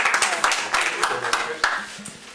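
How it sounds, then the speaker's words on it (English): A school board meeting audience claps for students, a light scattering of hand claps in a room, brief and uneven, with talk over it. "let's give them a round of applause"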